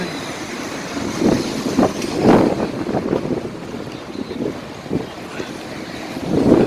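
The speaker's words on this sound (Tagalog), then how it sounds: "Ayan, ang lakas po ng hangin." Strong wind gusts buffet the microphone in rough, uneven bursts on a street under a dark sky, swelling and easing repeatedly over a steady outdoor rumble.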